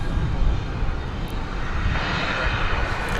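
Jet engines of an aircraft at DFW Airport at night produce a continuous broad roar of moderate loudness, filling the whole stretch with no voices over it.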